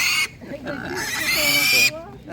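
Pigs for sale at a Ukrainian animal market grunt in short low bursts nearby, set against loud busy market din, with a person speaking over much of it.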